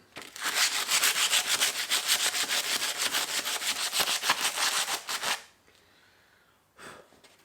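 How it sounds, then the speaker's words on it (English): Coarse 60-grit sandpaper is rubbed by hand over the edges of a custom rear trail light mount, making a fast rhythmic scratchy rasp for about five seconds before it stops, followed by a brief faint scrape. "got myself some sandpaper, pretty coarse stuff, I think it's 60 grit. Just something to take the sharp edges off of this"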